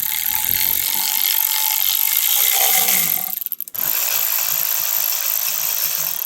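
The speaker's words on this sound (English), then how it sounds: "So now I'm gonna take off the flywheel cover. Just 2 10 mils." A ratchet wrench clicks steadily while backing out the two 10 mm bolts of a Honda Civic flywheel cover, a close, continuous rapid ratcheting with a short pause midway before it resumes.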